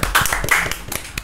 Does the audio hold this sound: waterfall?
no